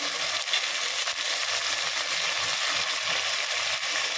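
Chopped tomatoes fry in a pan for prawn biryani with a continuous, even sizzle and faint scraping of stirring, close and moderately loud throughout.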